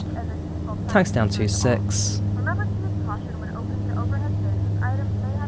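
Twin turboprop engines of a Dornier Do228 taxiing after landing, a steady low drone with a constant tonal hum running throughout, while someone speaks over it with short radio-style phrases.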